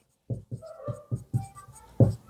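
Chalk or marker tapping and scratching on a classroom board during a history lesson, a series of short distinct strokes with brief pauses between them, close and clear.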